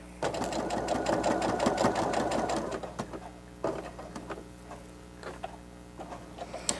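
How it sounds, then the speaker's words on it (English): Sewing machine running a zigzag stitch over a fabric seam on a face mask with pocket and nose piece, a steady rapid mechanical rattle for about three seconds, then sparse clicks and short bursts of stitching. "I'm going to go back over these stitches with a zigzag just to help keep it from unraveling"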